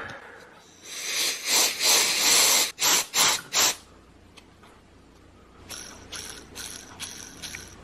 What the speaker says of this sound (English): that bearing's gotten loud. I guess I've got all the oil out of it.